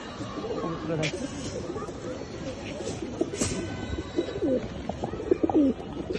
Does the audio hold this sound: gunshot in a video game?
no